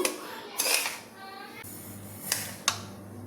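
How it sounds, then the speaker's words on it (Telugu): Semolina (rava) roasts in a pan for rava laddu, heard as close metallic scraping and clanking of a spoon against the pan in short bursts, with a quiet hiss between strokes. "ముందు రవ్వ బాగా వేయిద్దాము మంచి ఎరుపు వచ్చేలా వేయిస్తే చాలు"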